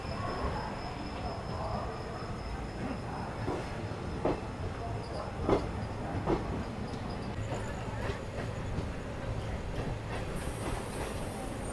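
The Ratnachal SF Express pulls out of Vijayawada: steady interior rumble of the moving coaches with faint wheel squeal and a few soft clunks, heard from on board at moderate level.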